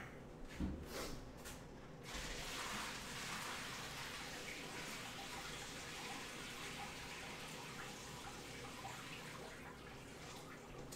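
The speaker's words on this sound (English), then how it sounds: "I'm gonna pour off a little bit of this water so I can see what all veggies are in here." Water pouring off a pot of lobster stock with vegetables, a steady splashing rush under a few brief clatters, continuous and fairly close in a kitchen.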